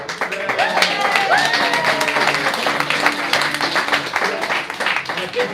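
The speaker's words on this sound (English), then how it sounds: "And a big round of applause for that bike out there." A crowd at a traditional Irish music session applauds with lively, uneven clapping, with voices and some sustained tones mixed in underneath, holding a fairly loud level throughout.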